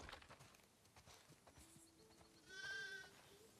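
Sheep flock in the video game The Last of Us Part II, with a few bleats and animal calls over soft ambient background, one clearer, louder bleat near the end.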